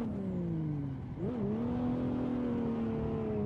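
A race car on worn-out tires drifting in a video game, its engine revving and holding a steady whining pitch that dips briefly and then climbs again, alone and close.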